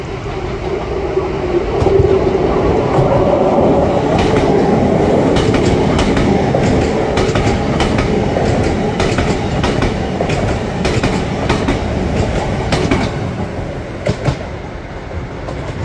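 A Lumo train passes through Manors station in Newcastle, a loud steady rumble with rhythmic clickety-clack of wheels over rail joints and faint squeal, sustained for the whole pass.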